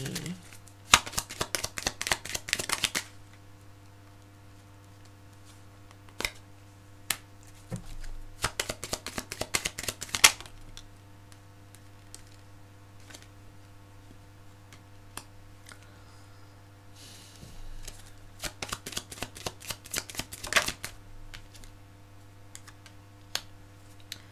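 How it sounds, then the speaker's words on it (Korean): Tarot cards shuffled and drawn at a table, several bursts of crisp riffling and snapping spread over the stretch, separated by quiet pauses with occasional single card taps and a steady low hum underneath. "우리 사수자리 여러분들 위한 추가 카드 뽑아볼게요"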